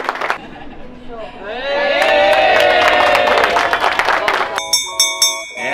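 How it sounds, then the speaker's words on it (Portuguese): Customers in a Havan department store in Balneário Camboriú clap and cheer in a loud, dense burst lasting about three seconds, with a voice just before and bright chiming tones ringing out right after. "Só de palmas para os clientes aí"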